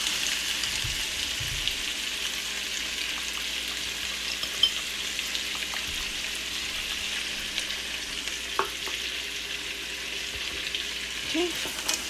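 Smoked turkey and zucchini cook in a pot with a soft, steady sizzle, while a few faint scraping clicks of stirring sound near the bottom. No one speaks.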